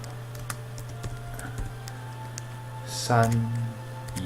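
Typing on a computer keyboard, scattered single key clicks spaced out through the moment, fairly close, with a steady hum underneath and a brief burst of speaking near the end.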